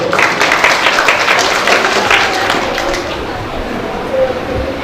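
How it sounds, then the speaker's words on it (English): Audience applause at a felicitation ceremony for outgoing students, dense clapping from a crowd that stays loud and steady for several seconds before tapering slightly, with faint voices underneath. "Please give a round of applause, please."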